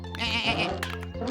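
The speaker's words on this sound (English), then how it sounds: "We're never going to finish if we have to keep stopping for sheep." Sheep bleat several times in quick succession in a children's cartoon set in the countryside, loud and close, with a brief spoken word over them.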